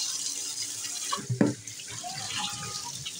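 A kitchen tap runs steadily while hands are soaped and washed at a sink, with a brief splashy surge midway and a soft, constant water hiss throughout.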